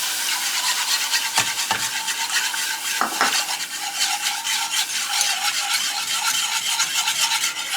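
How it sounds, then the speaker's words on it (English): Milk is stirred into cooked flour in a pan, giving a continuous close scraping and rubbing of a utensil against the pan with a light bubbling sizzle underneath, plus a few sharper knocks; no voices. "Now we're going to add our milk, stirring constantly."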